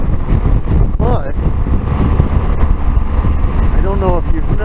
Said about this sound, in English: it's really windy. I mean, it is super windy